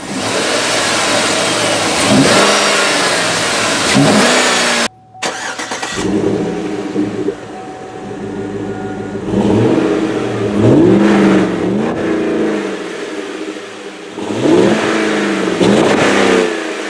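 A 2007 Chevrolet Tahoe LS with a 5.3-liter Vortec V8 and four-speed automatic accelerating in repeated strong pulls, engine note rising and dropping through shifts, loud and close.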